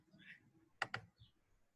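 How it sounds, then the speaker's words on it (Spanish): A pair of quick computer mouse clicks close to the microphone during an online video call, sharp and distinct, with faint room noise and soft murmurs around them. "se escuchan los clics que estás haciendo"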